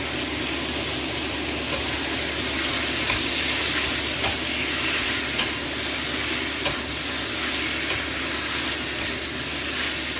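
Pork, white fungus and smoky peppers stir-frying in a wok for Chinese xiao chao rou, giving a steady, close, broadband sizzle with scraping and stirring running through the whole stretch, no talking.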